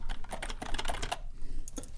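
Fingers type on a pure-style ASMR computer keyboard, producing rapid, crisp clicky keystrokes in irregular bursts with a short pause near the end, close and clear with no talking.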